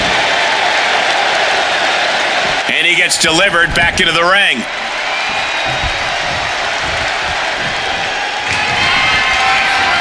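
Wrestling arena crowd at a Braun Strowman and Roman Reigns versus The Undertaker and Brock Lesnar match roaring, cheering and applauding steadily and loudly, with a commentator speaking over the din.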